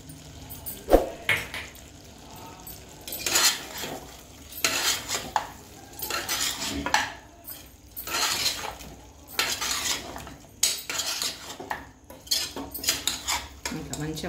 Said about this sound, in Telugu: ఇంకా మంచిగా ఫ్రై అయిపోయింది